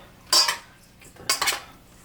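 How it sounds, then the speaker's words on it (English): Salted, peppered pork for al pastor tacos is stirred in a bowl, giving two short, close bursts of a utensil clinking and scraping against the dish, with no talking. "I'll go ahead and stir that up"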